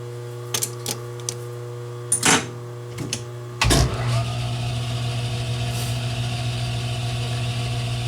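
An O1 tool steel part being faced to length on a lathe: a steady motor hum settles in after a few scattered clicks and a sharp clunk, then a continuous mechanical drone with faint cutting noise.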